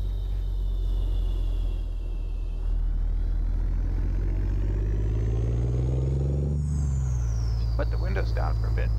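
A Kenworth W900 truck in American Truck Simulator pulls a Doepker Legacy B-double trailer slowly with the windows down, its engine droning with a deep steady rumble that climbs, then drops as it shifts near the end.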